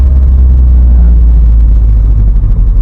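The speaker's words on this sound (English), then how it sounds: "Final blast is being ruined by a milk lorry" A loud, steady low rumble of a heavy milk lorry's engine passing close by, filling the whole clip with no voices.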